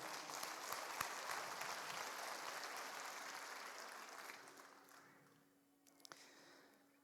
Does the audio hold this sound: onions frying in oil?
no